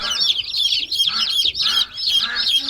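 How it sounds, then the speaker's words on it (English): A flock of chickens on a market farm cluck busily and continuously at close range, overlapping calls filling the whole stretch. "It's a lot of chicken, eh? A lot of chicken."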